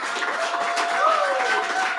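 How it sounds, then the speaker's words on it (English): A live audience at a real estate wholesaling Q&A event gives a round of applause for Jamil Damji, a dense, steady wash of many hands clapping together, with a thin tone running through it. "Let's give him a round of applause again."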